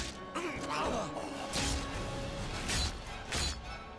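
Punches landing in the first-person shooter video game Rage, repeated heavy smashing impacts with whooshes, several hard hits spread across a few seconds, loud and close over game ambience.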